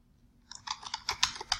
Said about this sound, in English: So I basically need to type in this path